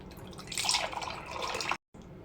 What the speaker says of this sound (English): Let's make some coffee while I tell you about it.